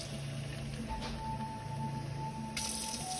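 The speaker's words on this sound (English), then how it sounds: "Now add a cup of water" A cup of water poured into a pot of Jamaican curry chicken with carrots, a steady close splashing and trickling wash lasting a few seconds, alone without talk.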